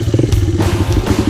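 Dual sport motorcycles pass close by on a typhoon-hit road in the Philippines, their engines giving a loud, rattling burble that pulses steadily throughout.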